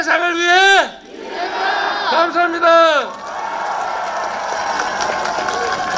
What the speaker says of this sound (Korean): 이재명 후보에게 커다란 함성과 박수로 힘을 주시길 바랍니다